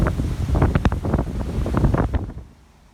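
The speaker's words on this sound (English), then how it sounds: "Yep, it's getting really windy." Strong gusts of wind on a hiking track in the Wungong valley buffet the microphone in loud rough bursts, then die away to quiet near the end.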